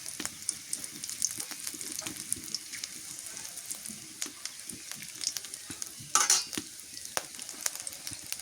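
Whole spices like cardamom, cloves and garam masala frying in a pan give a soft, steady sizzle, broken by frequent sharp clicks and taps of a utensil stirring and one louder clatter near the end.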